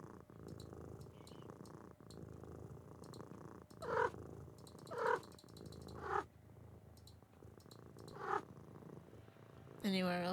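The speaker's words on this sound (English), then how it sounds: "Anywhere else I can pet Kitty?" A cat in the video game A Little to the Left purrs steadily and softly while being petted, a low continuous rumble broken by a few brief louder chirps or sounds.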